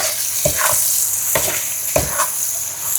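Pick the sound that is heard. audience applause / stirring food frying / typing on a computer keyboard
stirring food frying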